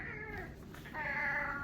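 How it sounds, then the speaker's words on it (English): A house cat meows close by in two drawn-out, wavering calls separated by a short pause, fairly quiet with no talking. "My cat gets in the way every single video."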